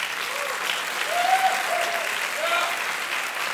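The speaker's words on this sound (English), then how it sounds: "Round of applause for Jack Rosenberg on the trumpet." Applause rises from a concert audience for a trumpet player at a college jazz lab band show. Many hands clap in a steady, full wash, and a faint voice carries briefly over it.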